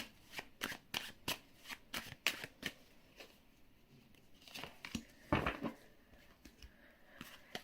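Tarot card decks being shuffled by hand, a quick run of crisp riffling flicks and slaps, close and fairly quiet, with short pauses between bursts.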